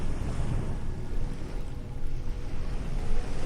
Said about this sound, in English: The waves continue, steady unbothered.